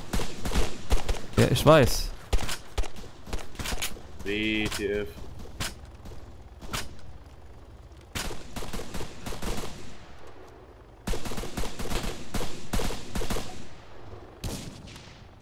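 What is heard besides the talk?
gunshots in a video game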